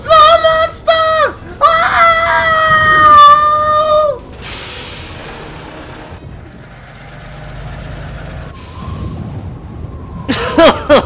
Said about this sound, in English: But Paxton had shrieked so loudly, it had disturbed the snow above.